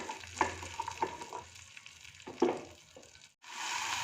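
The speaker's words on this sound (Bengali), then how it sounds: "এবার আলুটাকে একটু ভেজে নেব।" Diced potatoes frying in a pan for sujir upma, a steady close sizzle with a few louder crackles and stirring scrapes, dropping out briefly before the hiss returns.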